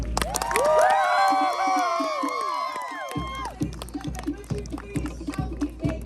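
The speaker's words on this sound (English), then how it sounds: "I want everyone to clap their hands and make lots of noise" Luau show audience on Maui claps and cheers on cue, a loud burst of whoops and shouting voices that swells then gives way to steady rhythmic clapping.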